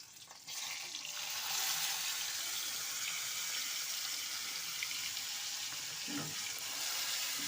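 Grated cauliflower stalks frying in a pan with chopped green chili in a Bengali kitchen, a steady hissing sizzle that starts loud after a brief quiet moment and carries on evenly, with a short clatter near the end.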